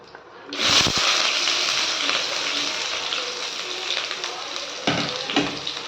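Onion hits hot oil in a pan with a sudden loud sizzle that settles into a steady hiss, broken by a few stirring scrapes near the end, with no voices.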